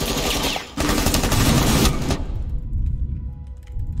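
Gunfire from a weapon in the video game Rainbow Six Siege, loud bursts of shots packed into the first two seconds, then a quieter tail with faint distant tones and no talking.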